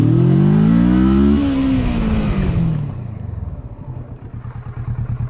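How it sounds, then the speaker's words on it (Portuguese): Kawasaki Versys 650 motorcycle accelerating hard in first gear, a loud close engine roar climbing in pitch, then easing off into a lower, throbbing idle-like pulse as the revs drop. "vou ser progressivo para ela não empinar, porque eu quero mostrar para vocês o quanto ela ganha velocidade rapidamente"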